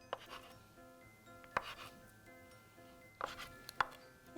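A knife slicing through an extra-firm block on a cutting board gives a few sharp, separated thunks, spaced apart with quiet between them and a faint background hum.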